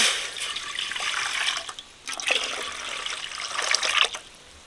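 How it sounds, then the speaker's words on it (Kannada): Water pours and splashes steadily into a pan of roasted semolina, pausing briefly midway before resuming, fairly close and with no talking. "ಫಸ್ಟ್ ನೀರು ಹಾಕೋಬೇಕು"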